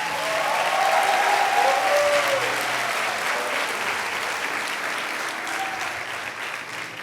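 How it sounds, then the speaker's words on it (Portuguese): A church conference audience breaks into sustained clapping that stays full and even for several seconds before gradually thinning, with a faint murmur of voices underneath. "Dê uma salva de palmas."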